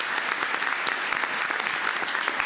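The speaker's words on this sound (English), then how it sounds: "let's give him a huge round of applause." Sustained round of applause from those gathered at a commissioners court meeting, a steady wash of many hands clapping at an even level for the whole stretch.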